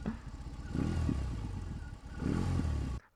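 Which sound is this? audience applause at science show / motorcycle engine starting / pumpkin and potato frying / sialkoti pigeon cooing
motorcycle engine starting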